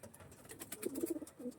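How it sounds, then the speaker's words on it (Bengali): A small flying-breed pigeon gives a few soft, short coos in quick succession, faint and close, over a quiet background. "একদম ছোট্ট পায়রা"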